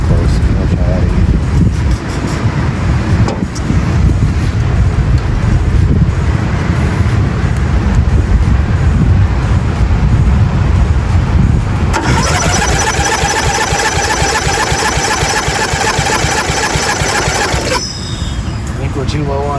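A 1997 Murray lawnmower engine cranks over and over without catching, loud and close, a continuous rough churning that shifts partway through to a harsher, buzzier whirring before dropping off near the end.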